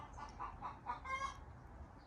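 Backyard chickens cluck and murmur in short, repeated bursts while scratching through garden soil and scraps in a winter planter bin, fairly close and moderate in level over a low background rumble.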